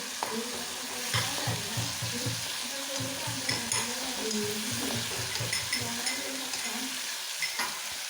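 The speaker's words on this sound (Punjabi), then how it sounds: "ਥੋੜਾ ਜਿਹਾ ਤਾਂ ਤੜਕਾ ਤੁੜਕਾ ਲਾ ਲਈ" Tempering, or tadka, sizzles in a pan with a steady close hiss and crackle, and a spoon stirs it with repeated quick scraping strokes. No voices are heard.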